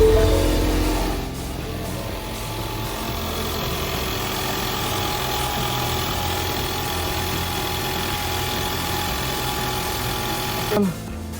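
A 2.3L Ford EcoBoost Mustang engine idles steadily with a low, constant rumble and faint vibration, a brief rise in noise near the end.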